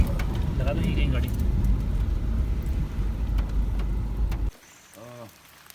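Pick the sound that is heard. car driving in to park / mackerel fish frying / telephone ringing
car driving in to park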